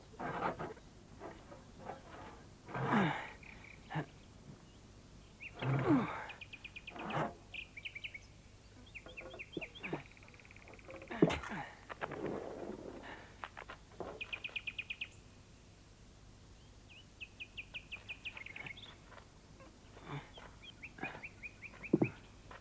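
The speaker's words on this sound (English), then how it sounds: "Thank you, Bird. It's very kind of you to come and sing to me." Faint bird chirps and short calls come in scattered bursts over a quiet background, with several brief repeated trills.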